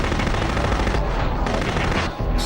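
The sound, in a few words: minigun fire from a robot in the video game Future Cop: LAPD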